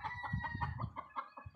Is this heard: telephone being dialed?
no